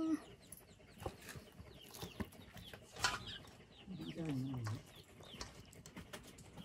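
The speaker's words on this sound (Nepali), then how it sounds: "लोकलको भाले कुखुरा हो" A local rooster crows with a rising, wavering call, and scattered clucks from nearby poultry sound around it. The birds are moderately close and outdoors, with faint background activity.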